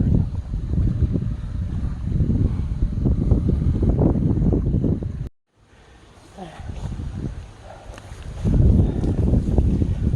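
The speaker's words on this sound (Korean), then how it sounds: "아침부터 바람이 되게 많이 붑니다" Strong morning wind blows outdoors at a carp fishing spot, a steady, loud, gusty rumble on the microphone that briefly drops out midway and then builds back to full strength.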